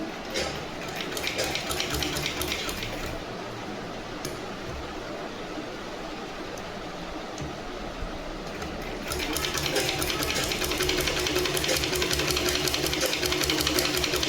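A sewing machine stitches along folded fabric, its steady mechanical whirr running continuously and growing louder and brighter partway through, with faint talk beneath.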